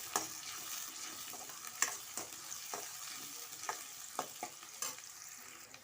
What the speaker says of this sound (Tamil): இந்த வெங்காயம் வதங்கி வரட்டும்.